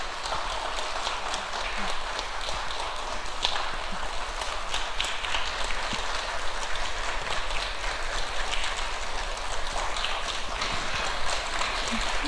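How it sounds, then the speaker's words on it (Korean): A church congregation at a combined-generations Sunday service claps steadily as graduation gifts are presented to young adults, a dense, even wash of applause that continues unbroken throughout. "선물 증정하실 때 큰 박수로 함께 축하하겠습니다"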